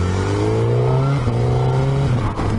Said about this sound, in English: Oh, the joys of a motorbike